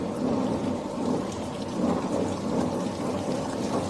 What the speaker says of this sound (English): So I'm going to start with the deck gun at the top, and I'm going to open it up.